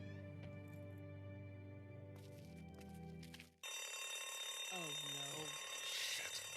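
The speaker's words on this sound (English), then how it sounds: "Now every walker in the area is attracted by the alarm" A pharmacy alarm in The Walking Dead video game goes off after a brief drop, ringing loud and continuous like an electric bell over game music and effects.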